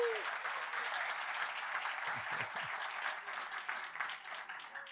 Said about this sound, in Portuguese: Aplaude, irmãos, aplaude, irmãos, aplaude